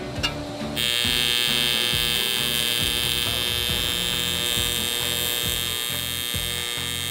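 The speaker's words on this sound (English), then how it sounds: "we'll go through and weld that up" Welding on a Hoonicorn car rebuild: a steady, close electrical buzz with a pulsing crackle that starts abruptly and runs continuously to the end, with no talk.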